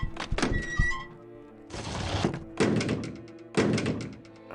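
A door opens in the video game Arcanum: a series of heavy wooden thunks and creaks, several distinct knocks and scraping bursts in sequence, close and moderately loud, with no talking.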